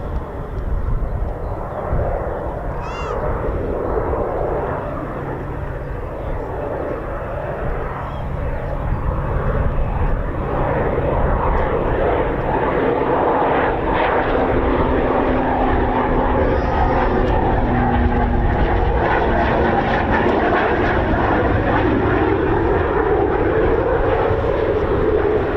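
Jet aircraft roar through a long continuous pass at RAF Waddington during a military air exercise, with F-16 fighters among the types flying; the loud broadband rumble builds and stays steady throughout.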